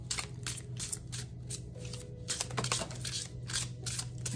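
Oracle cards being shuffled by hand, a quick series of rapid, close riffling flutters and soft slaps repeating in bursts, with no talk.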